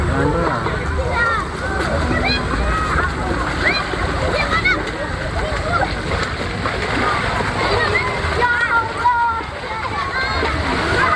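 Water splashes and sloshes continuously as people wade across a shallow river mouth behind a beach where many are bathing, with voices of bathers and children audible throughout the busy, churning scene.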